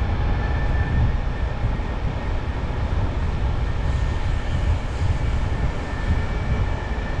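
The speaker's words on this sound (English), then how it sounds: "Look at the train." A freight train hauling ore cars passes close by, a steady heavy rumble and rolling rail noise that continues without a break and with no voices.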